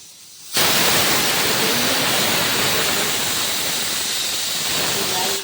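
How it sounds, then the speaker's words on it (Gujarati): Dal fry tempered with chillies boils in a pot, a loud steady hiss of bubbling and steam that starts abruptly and holds evenly to the end with no talk. "અને એક બાજુ મારી દાળ ઉકળે છે"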